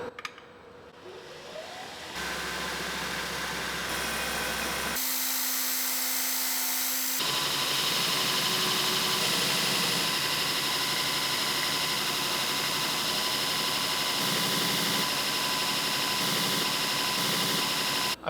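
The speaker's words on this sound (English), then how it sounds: "I can just hog it out with the belt grinder from there" A belt grinder hogs out 3/8 inch thick steel plate for a small wheel attachment, making a loud, continuous abrasive roar and whine that shifts in pitch as pressure changes and runs unbroken for most of the stretch.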